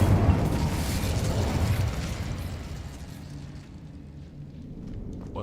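An Incendio fire spell bursts in the game Hogwarts Legacy, a loud rumbling blast that swells at the start and then slowly fades into a crackling, roaring tail.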